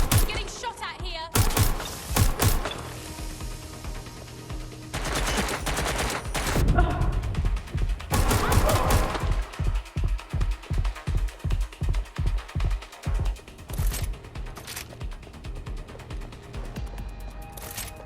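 Shootout gunfire in Watch Dogs Legion, starting with heavy clustered shots and loud bursts, then settling into a steady rhythmic run of rapid automatic fire, loud and close.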